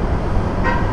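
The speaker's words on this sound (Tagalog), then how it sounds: "Merging traffic." Road traffic merging on EDSA near Mega Mall in Manila, heard from a riding motorcycle: a steady, loud rumble of cars with a brief car horn toot near the end.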